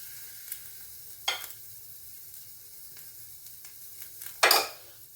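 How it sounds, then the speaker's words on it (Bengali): Butter melting in a hot pan while a chicken kebab snack is being made, giving a soft, steady sizzle close by, broken by two sharp scraping clatters from stirring. "তো দেখো একটু বাটার গলিয়ে দিচ্ছি"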